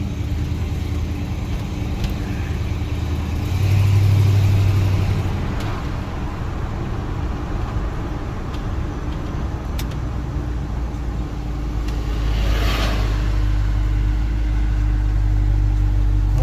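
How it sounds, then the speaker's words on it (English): A 1975 Ford F100 pickup with a 360 engine drives along, its steady low engine drone rising briefly around the middle and again near the end as it moves through the gears, with no talking. "See if we can get through some gears here and give you guys, it's a 360."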